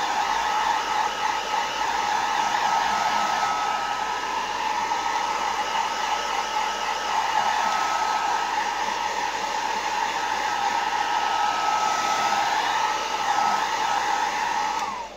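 A hair dryer blows steadily and loudly on a vase, a continuous close whir that holds an even pitch for the whole stretch before cutting off at the end.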